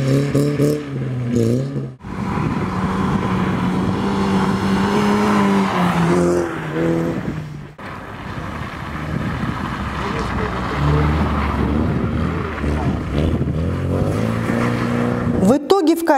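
Race cars drive a long carousel-type circuit track at a winter auto race in Tynda, with engines revving and rising in pitch through repeated loud passes and gear changes.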